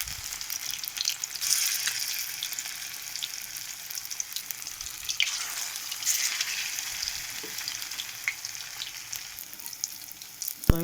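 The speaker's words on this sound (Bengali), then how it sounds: "আমি এক এক করে সব ভাজবো" Soybean fritters fry steadily in hot oil, giving a dense, continuous sizzle with crackling pops close by, unbroken by any voice.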